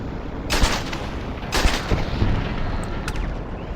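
Turrets firing in the game Starfield: heavy booming shots in two strong bursts, followed by weaker reports, all over a dense, steady rumble of combat noise.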